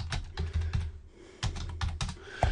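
Keystrokes on a computer keyboard come in quick irregular bursts with short pauses, close and clear, while notes are written down; no voices are heard.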